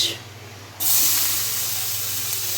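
Onion hits hot oil in a pan for a Bengali chicken kosha, a sudden loud hiss erupting after a quiet moment and holding steady as a continuous sizzle.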